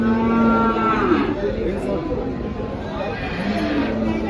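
A cow moos at a cattle market where HF and Jersey cows are sold, giving a long low call and another near the end. Busy crowd chatter and voices run underneath.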